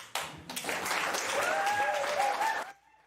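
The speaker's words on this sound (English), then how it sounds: "everyone will give you a huge round of applause" A theater audience at a magic show breaks into applause, the clapping swelling quickly into a full, steady roar of many hands, a few voices faintly audible beneath it, before cutting off abruptly.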